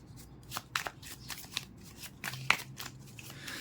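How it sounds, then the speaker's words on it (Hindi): Tarot cards being shuffled by hand make soft, rapid riffling and flicking sounds, close and quiet, in irregular bursts over a low background hum. "till I shuffle the cards"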